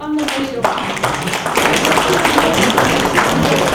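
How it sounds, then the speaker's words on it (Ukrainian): An audience at a Ukrainian book presentation breaks into applause, sustained rhythmic clapping from many hands that builds and stays loud throughout, with a voice heard briefly at the start. "Аплодують."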